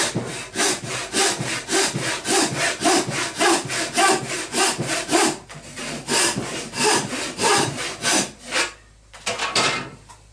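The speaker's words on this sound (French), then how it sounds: "On peut débiter le bois de mâture à la main." Wood for a model pond sailboat's mast is cut with a hand saw in steady back-and-forth rasping strokes, close and loud, with a brief pause midway before the rhythmic sawing resumes.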